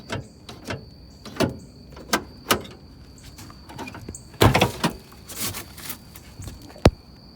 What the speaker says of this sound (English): See if I can open this door after I messed it up